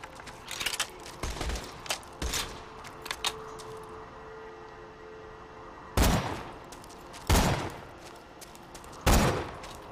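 Gunfire in Borderlands 2 arrives as scattered bursts: rapid clusters of shots early on, then three heavier, louder reports spaced a few seconds apart, with quieter game ambience in between.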